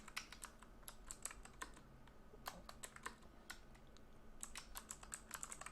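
Rapid keystrokes on a computer keyboard while entering web developer profile details, irregular clicks and taps running steadily throughout, close and moderately quiet with no talking.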